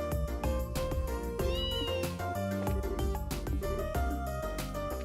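A cat meowing in the video game Trails in the Sky, a few bright meows over loud game music that plays steadily throughout.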